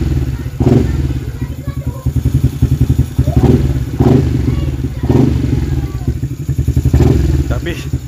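A tuned fuel-injected Yamaha LC V8 motorcycle engine revs repeatedly, with mechanical clatter and thumps between the rises, and people talk over it.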